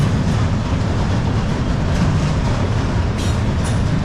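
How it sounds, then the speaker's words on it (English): A big freight train rolls by on a railroad near Kingstown in Lincoln County, Kentucky, a loud, unbroken rumble and rattle of railcars passing close by. "they got a lot of trains, these big ones"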